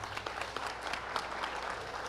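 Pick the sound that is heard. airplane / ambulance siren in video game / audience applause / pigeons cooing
audience applause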